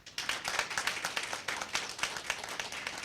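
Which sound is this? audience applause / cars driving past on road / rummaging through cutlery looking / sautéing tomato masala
audience applause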